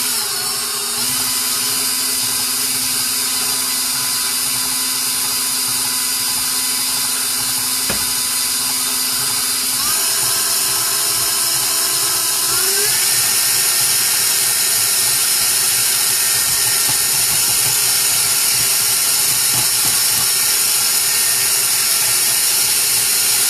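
Electric mixer with a whisk beater whipping chocolate whipped cream in a bowl, a loud, continuous high whir that holds for over twenty seconds, its pitch rising partway through.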